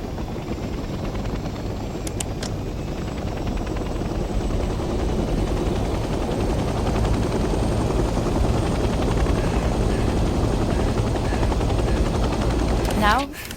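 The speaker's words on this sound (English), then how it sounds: "The helicopter will now take off automatically and remain in a hover state." Loud, continuous rotor roar of a helicopter lifting off and holding a hover in the video game Hell Let Loose Vietnam, a dense steady thrum that cuts off abruptly at the end.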